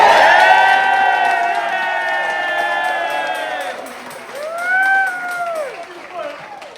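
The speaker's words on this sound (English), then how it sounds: "Give them a massive round of applause." Wedding guests cheer and applaud, long sustained whoops and shouts rising over clapping, then a second swell of voices near the end as the cheering tapers off.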